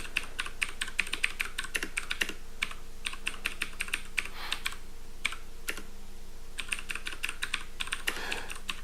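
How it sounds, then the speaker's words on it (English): Rapid, close typing on a computer keyboard goes on steadily with bursts of crisp key clicks, brief pauses, and a few louder strikes, with no voice over it. "of course, because I'm typing this live,"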